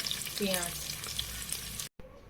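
Garlic frying in a pan for a home-cooked chicken and vegetable dish, a steady close sizzle with light stirring, cut by a brief dropout near the end before the sizzle resumes more quietly.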